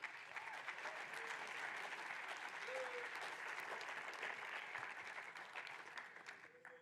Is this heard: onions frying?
no